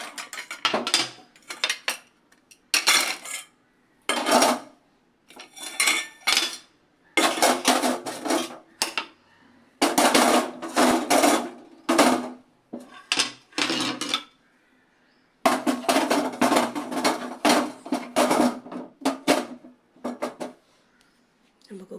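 Washed and wiped metal cooking vessels are picked up and set down in a home kitchen, producing repeated clanks and scraping clatter in short bursts with pauses between, close and fairly loud, while someone talks.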